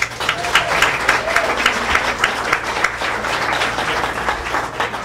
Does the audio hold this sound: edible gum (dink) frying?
no